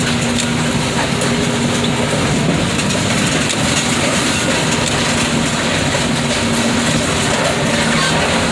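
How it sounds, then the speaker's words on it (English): Continuous low rumble and rolling clatter of heavy rail cars being shunted nearby, steady and loud throughout with no voices. "That's why we're hearing the train"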